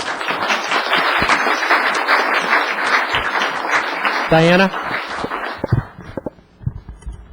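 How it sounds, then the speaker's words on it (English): A town council meeting audience applauds the Jazz Choir: dense, sustained clapping that fills the room, then thins out and fades, with a voice briefly speaking partway through. "If we can have one last round of applause for the Jazz Choir"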